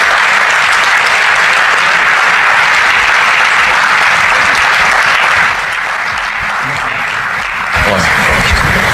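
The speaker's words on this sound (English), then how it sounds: "Round of applause as he gets here." A studio audience breaks into sustained, dense applause for an arriving guest, loud and even, easing slightly near the end before swelling back up.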